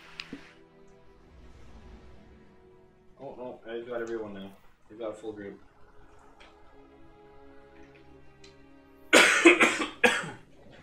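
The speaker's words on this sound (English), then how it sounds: "Sorry for the coughs" Quiet speech in a room, then a burst of several harsh coughs close to the microphone near the end.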